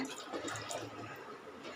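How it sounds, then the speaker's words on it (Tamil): Water runs into a pot of soaked chickpeas set inside a pressure cooker for chana dry masala, a steady close pouring splash lasting throughout with no talk. "தண்ணி விடலாங்க"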